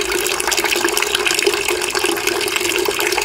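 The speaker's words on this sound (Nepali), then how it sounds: "यसरी उपभोक्ताको घरको धारामा पानी आइसकेको छ" A continuous, fairly loud rush of Melamchi water from a household tap in Kathmandu, steady and unbroken throughout.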